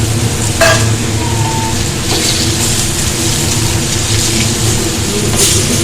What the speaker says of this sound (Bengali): প্রচণ্ড ফাটছে লঙ্কা দেওয়ার পর